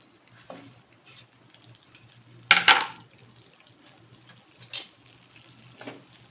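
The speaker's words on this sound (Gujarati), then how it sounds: "ફૂલ ગેસની ફ્લેમ ઉપર જ આપણે મિક્સ કરવાનું છે અને એકદમ ક્રન્ચી થાય ત્યાં સુધી જ આ રીતે સાતળવાના છે" Chopped pieces hit hot melted butter over a full flame for tomato soup, giving a short burst of sizzle and clatter, then faint, sparse stirring and frying in a quiet kitchen.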